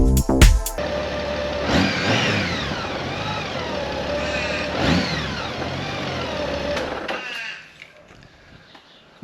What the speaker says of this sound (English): Nothing better than the sound of the 6-cylinder boxer engine.